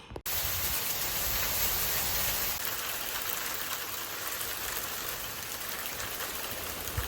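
Hail falling outdoors, a dense steady hiss of pelting ice across the whole stretch, fairly faint and even after a brief click at the start.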